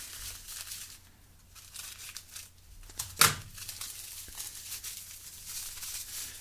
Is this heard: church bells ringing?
no